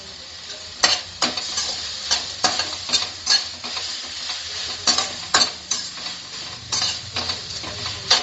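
Mint leaves tossed into tomatoes sautéing for onion chutney, a constant sizzle punctuated by many loud, close scrapes and clinks of a spoon stirring against the pan in an irregular rhythm, with no talk.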